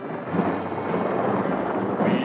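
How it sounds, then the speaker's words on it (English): Thunder rumbles through steady rain in an old 1953 Western film scene, a continuous broadband roar that swells near the start and again toward the end, with no talk. "We heard a clatter of thunder, so we hurried under the shelter of a tree."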